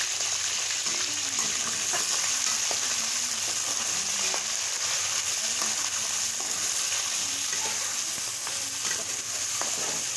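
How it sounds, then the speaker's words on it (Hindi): Beef fries in hot oil for a beef korma, filling the whole stretch with a loud, continuous sizzle and crackle while occasional stirring shifts the pieces. "अब जो है हम इसमें बीफ को ऐड करेंगे और बीफ को जो है वो फ्राई कर लेंगे।"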